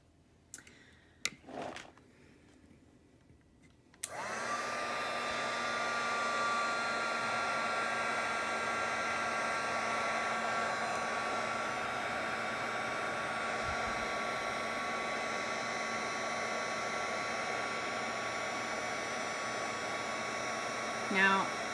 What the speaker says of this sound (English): what you're gonna see is the powder melt as I use a heat tool